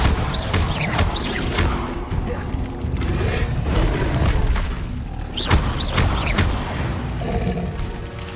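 Spells in Hogwarts Legacy fire off as a run of loud booming blasts and crashing impacts, including a Bombarda explosion, with dense rumbling combat noise throughout.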